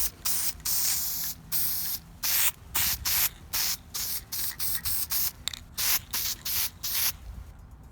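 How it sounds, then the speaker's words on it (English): Spray adhesive is sprayed onto fabric for a thrift-store fur chair upcycle: a rapid series of about a dozen short, close hissing bursts separated by brief pauses. "Now I'm gonna spray it so that they can adhere together."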